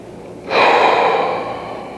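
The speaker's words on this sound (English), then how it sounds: "please, everyone, just take a real deep breath" A group of people at a personal power workshop draws one deep breath together, a single loud, close rush of air that swells quickly and then tapers off over about a second and a half.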